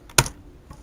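A single sharp keystroke on a computer keyboard, close and crisp, followed by a faint softer tap a moment later.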